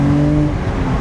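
A BMW Z4 2.5i driven in sports mode accelerates hard along a winding Buckinghamshire road, its engine giving a loud, steady, racy drone with a clear rising tone and no talk over it.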